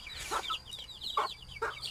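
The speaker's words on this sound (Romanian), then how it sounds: "Asta este tot o găină soră cu cele care au crescut pui" A hen, sister to the birds that raised chicks, clucks three times in short bursts at close range on a farm, with other fowl chirping faintly in the background.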